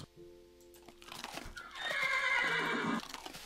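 Horses neighing in Minecraft: a long, loud, rising and falling whinny, close by, with soft thuds and clip-clop sounds around it.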